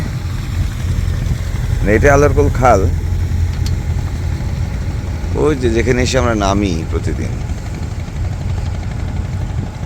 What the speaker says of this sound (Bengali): আমরা চলছি একটি ছোট্ট লঞ্চে করে